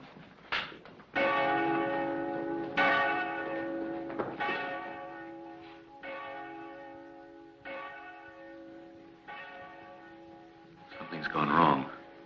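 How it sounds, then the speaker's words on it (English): An alarm bell in a Wild West town rings out in about eight heavy, evenly spaced clangs, each with a long ringing tail, loud and close. "To ring that bell now would be a serious mistake."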